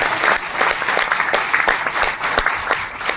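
Seminar audience clapping in a hall, a steady, dense round of applause at close range that continues evenly for the whole span without pause.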